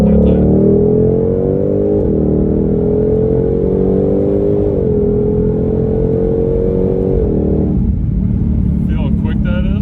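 A 2020 Shelby GT500 with a dual-clutch gearbox pulls hard from inside the cabin, its engine note climbing and dropping sharply at each quick paddle upshift, loud and continuous, with voices talking over it.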